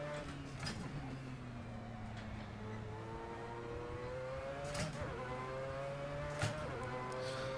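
A Mazda 787B race car in a sim racing game at the Red Bull Ring accelerates under throttle, its engine note holding a steady droning pitch that climbs through gears, faint and continuous with no talk.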